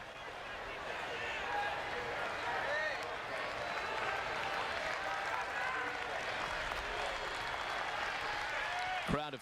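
A baseball stadium crowd of over 27,000 at an Easter Sunday Rockies at Padres game roars and cheers steadily behind pitcher Jake Peavy, a dense, sustained wash of noise with voices audible throughout.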